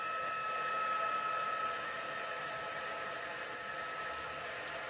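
A heat tool blows steadily over white embossing powder on paper, a loud continuous airy whoosh that holds for the whole stretch, dipping slightly partway through.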